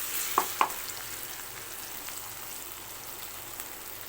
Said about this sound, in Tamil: இப்போ தக்காளி வதங்கிடுச்சு நம்ம ஏரா போட்டுக்கலாம்